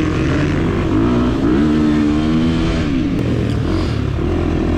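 A 2023 KTM 350 XC-F dirt bike at a hare scramble race, its engine droning loud and close with the pitch rising and falling as the throttle opens and eases through gear changes.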